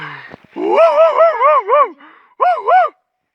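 A dog gives a run of yelping, whiny barks in quick succession, then a short pause and two more, close and loud.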